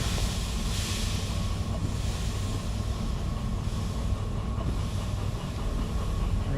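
Train in the DV Sim simulator game, a steady rumbling rail noise with faint rhythmic clatter, continuous and fairly loud with no talk.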